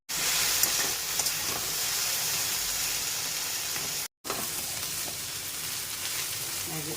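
Okra (bhindi) with turmeric and salt sizzles steadily in hot oil, a continuous bright frying hiss broken by a brief gap and a few stirring scrapes.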